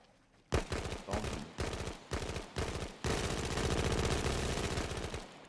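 Automatic weapon fire in DayZ: several short bursts of rapid shots, then one long sustained burst, loud and close with no voices over it.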